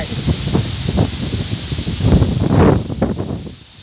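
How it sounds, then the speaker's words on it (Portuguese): Wind gusting through rustling leaves with a steady hiss of rain-like noise, swelling louder midway before easing off. "Chuva!"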